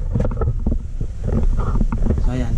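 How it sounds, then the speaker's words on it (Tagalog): Air from an indoor ceiling fan buffets a Saramonic SR-XM1 microphone, producing rough, uneven low rumbling gusts that swell and fade over a couple of seconds, with a few faint bits of background sound mixed in. "binuksan ko yung ating ceiling fan mga kabakbak"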